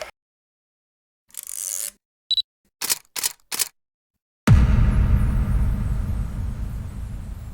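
A camera with a Sigma telephoto zoom lens fires its shutter in a short burst of several quick clicks amid quiet, followed by a louder rumbling handling noise.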